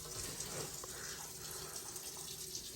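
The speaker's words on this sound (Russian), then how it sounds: "Сейчас воды долью, то у нас суп фасолевый варится." Water runs steadily from a tap into a pot of bean soup on the stove, a continuous close, moderately loud splashing stream with no talking.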